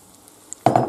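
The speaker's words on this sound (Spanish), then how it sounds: "Y ahora echamos la salsa que habíamos preparado antes." Carbonara sauce hits a hot pan of spaghetti with a sudden loud wet sizzle and stir after a near-silent start, running to the end.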